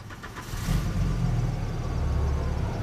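A car engine starts and revs up into a steady, loud rumbling idle nearby, with no talking over it.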